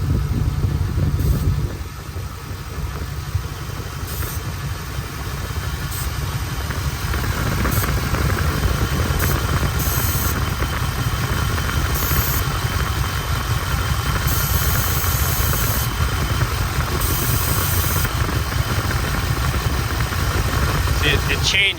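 A Chevy 5.7 V8 with an intake leak idles nearby in a steady, rumbling drone that holds throughout, with occasional faint higher hissing bursts over the engine.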